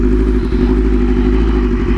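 A beginner motorcycle's engine runs at a steady, loud idle with a deep low rumble and faint mechanical clatter throughout, with no talking.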